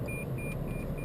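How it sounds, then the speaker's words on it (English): Forward parking sonar in a car with automatic transmission beeping close to an obstacle, short, soft, evenly repeated tones over a steady low cabin rumble. "You stop, you hear it beeping."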